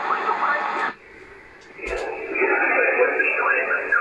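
Degen 1103 radio receiver turned to maximum volume on a weak signal, giving faint, hissy broadcast speech buried in static, with a brief drop in level and a click midway before the noisy reception resumes.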